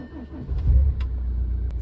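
A car being started in a garage, then pulled outside: a low engine rumble builds and settles into a steady idle, close and fairly loud, with a few brief clicks over it.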